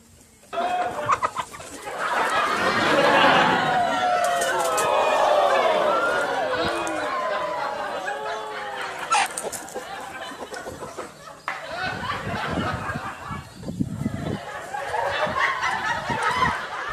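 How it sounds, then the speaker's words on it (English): A giant chicken in China clucks and calls almost continuously, with busy chatter and crowd noise mixed in, fairly loud throughout. "there was a video from China of a giant chicken."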